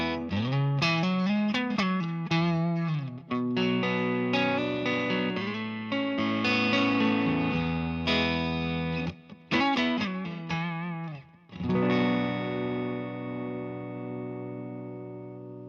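An electric guitar played through an overdrive pedal, warm overdrive, strummed chords and single-note runs ringing out, sustained and full, with a final chord decaying.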